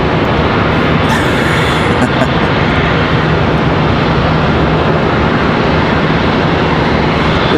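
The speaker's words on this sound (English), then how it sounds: "This one is an ERJ." An Embraer ERJ regional jet of Contour Airlines roars steadily at Charlotte Douglas International Airport, a loud, close, unbroken broadband engine rush holding at constant level throughout.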